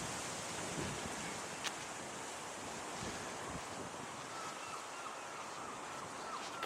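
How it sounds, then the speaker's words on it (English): Wind blows across an outdoor Quaker burial ground in Sunderland as a steady, even rush that holds for the whole stretch with no speech. "possibly is the wind"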